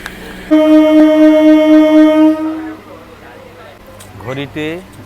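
A loud, long train horn blast sounds for about two seconds as a train departs Namkhana station, followed by quieter rumbling and brief voices.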